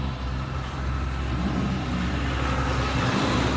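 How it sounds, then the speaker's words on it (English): Engine of a 2013 Chrysler 300 S revving, a dense continuous roar that holds steady and builds slightly toward the end, heard close and alone. "let me rev it up for you"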